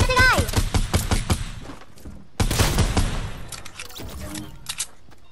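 Rapid bursts of gunfire in the video game Fortnite, a dense run of shots at the start and again midway, loud and close, mixed with excited shouting from players.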